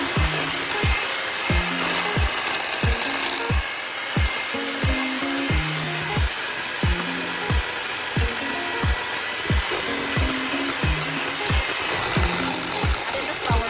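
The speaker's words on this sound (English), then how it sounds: "Adding the flour to the butter." An electric mixer whirs steadily as flour is worked into butter for Jamaican fruitcake batter, with regular rhythmic knocks of beaters against the bowl throughout.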